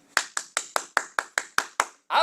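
Hands clap at a church to welcome a new pastor, nine sharp, evenly spaced claps close by, then a short rustling burst at the end.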